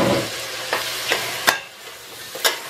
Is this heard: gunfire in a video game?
no